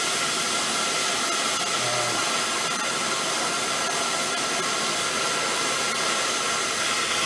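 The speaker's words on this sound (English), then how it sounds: "we're going to try to heat it up with this little torch" A small handheld torch roars steadily while heating a seized spindle on a John Deere L110 lawn tractor, a constant close hiss with no pauses or talking.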